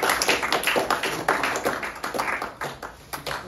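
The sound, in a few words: applause in a classroom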